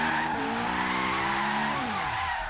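Tires skid and squeal continuously as a turbo Honda S2000 drifts and spins out in Forza Horizon 3, a loud sustained screech over engine drone with a pitch that sweeps and falls near the end.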